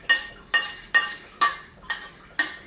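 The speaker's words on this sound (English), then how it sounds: "Grab a spoon so we can get all that stuff that's stuck to the edge." Spoon scraping soy sauce and tahini dressing from the inside of a bowl, six rhythmic close scrapes about half a second apart, with no talk.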